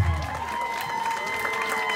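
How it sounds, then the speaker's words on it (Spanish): Guests at a quinceañera applaud the queens of the night, a steady moderate clapping from the crowd that runs throughout, mixed with voices and a sustained tonal background. "Fuerte los aplausos, esas palmas bonitas por ahí de toda la gente"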